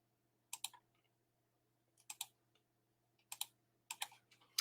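Four quick bursts of computer keyboard typing, each a short cluster of crisp key clicks separated by pauses, close and fairly quiet with no talk.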